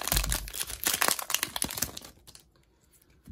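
Close crinkling and tearing of a Pokémon card pack's foil wrapper, rapid crackly bursts for about two seconds, then near silence before a faint rustle.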